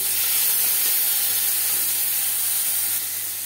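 Chana dal and urad dal frying in a small amount of refined oil, giving a steady, close hissing sizzle that holds evenly and eases slightly at the end, with no voices.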